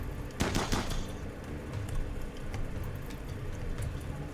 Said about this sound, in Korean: 저놈이 저기서 쏘고 있네